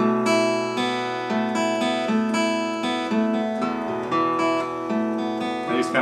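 Acoustic guitar picking the intro to a song, a steady arpeggiated pattern with the low E bass entering, ringing notes close and clear, played alone without talk.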